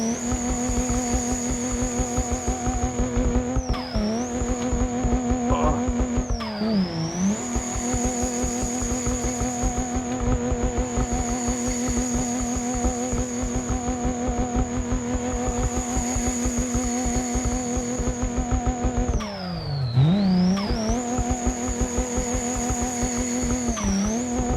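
Holden VL or VN in BeamNG.Drive with an RB engine making 900 horsepower holds a loud, steady high rev with a whining pitch, dipping and recovering several times as tires squeal and skid continuously.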